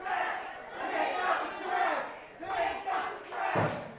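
A wrestling crowd roars and yells in swelling bursts in an arena, loud and reverberant, rising and falling in waves with a thud near the end.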